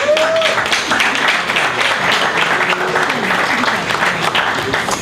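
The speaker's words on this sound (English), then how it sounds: "one time round of applause for Efe" An audience claps and cheers for the Big Brother Naija winner Efe at an award presentation, steady, full applause throughout with a few voices and whistles.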